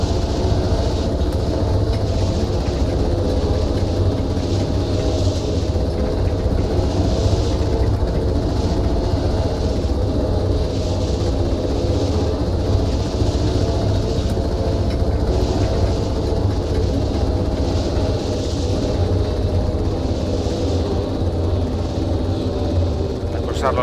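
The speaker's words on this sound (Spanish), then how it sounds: "Al parecer estamos en un helicóptero, sí." A helicopter in the ArmA 3 video game gives a loud, unbroken mechanical drone with a faint rhythmic pulsing throughout, with voices under the noise.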